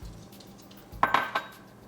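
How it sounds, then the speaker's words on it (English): Moong dal tipped from a bowl into an Instant Pot, a brief metallic clatter and rattle of lentils and dish, close, after quiet. "Try to add all the moong dal in without dropping the bowl in the Instant Pot."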